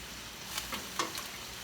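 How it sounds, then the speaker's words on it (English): Chicken and dumplings being stirred in a pot over the heat, a soft bubbling simmer with a few light scrapes of the spoon against the pot, quiet and close, with no talking. "let's just stir this for a little while"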